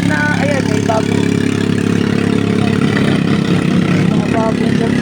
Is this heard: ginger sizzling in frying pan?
no